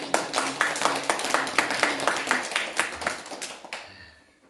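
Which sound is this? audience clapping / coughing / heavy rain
audience clapping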